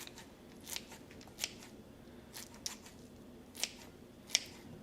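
Kitchen scissors snip while Korean mandu dumplings are being made, giving sharp, quiet clicks spaced about a second apart against a faint room background.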